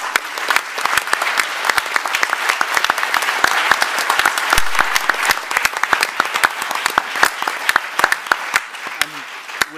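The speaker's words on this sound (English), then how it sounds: "Ladies and gentlemen, if you could join me in a round of applause for a wonderful panel." A crowd at a climate summit plenary applauds a panel, steady dense clapping with sharp individual claps standing out, continuing at even strength for about ten seconds.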